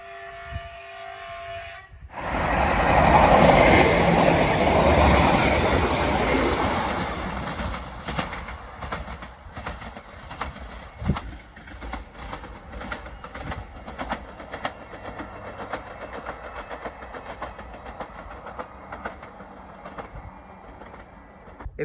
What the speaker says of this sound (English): you can hear the track, like the joints from the track every so da da da da da da